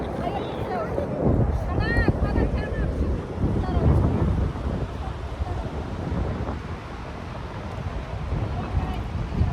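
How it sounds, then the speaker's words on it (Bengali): Sea surf roars steadily on Cox's Bazar beach as a loud, continuous rumble, heavily buffeted by wind gusting across the microphone. "এখানে সমুদ্রের গর্জন রীতিমতো শোনা যাচ্ছে।"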